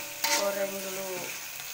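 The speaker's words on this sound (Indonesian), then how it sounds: "Ini bumbunya teman-teman, lagi saya goreng dulu." Spice paste for Javanese urap frying in a pan with grated coconut, galangal and salam leaves, a steady close sizzle with a brief clatter of stirring near the start.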